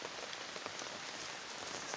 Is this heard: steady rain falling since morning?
yes